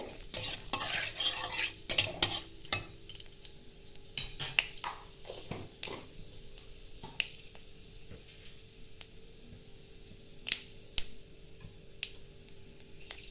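Dried red chillies and five-spice seeds crackle and sputter in hot oil, with sharp pops and occasional scraping of a utensil against the pan.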